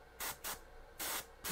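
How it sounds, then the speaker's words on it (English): An airbrush sprays white highlight paint in short bursts, four crisp hissing blasts at close range, with brief quiet gaps between them and no talking. "I'm going to spray my light going light here to dark over here"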